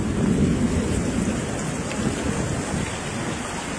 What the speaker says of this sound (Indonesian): wow, hujan terus.